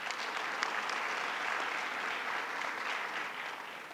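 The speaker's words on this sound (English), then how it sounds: "A round of applause for the Cabinet." Steady applause from the audience at a gubernatorial bill-signing event for the Governor's Cabinet, a dense even patter of many hands clapping throughout, moderately loud with no talk over it.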